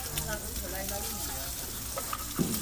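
Galunggong fish sizzles and spatters in a hot pan, a steady crackling hiss with occasional clinks of a utensil.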